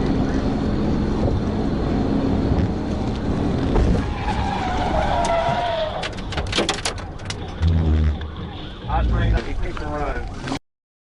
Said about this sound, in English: The pit maneuver caused the suspect's vehicle to spin out